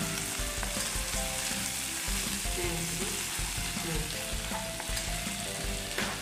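Green peas and tomatoes sizzle and fry in a pan while being stirred, a steady close crackle with scraping stir strokes, cooking for a gobhi aloo paratha filling.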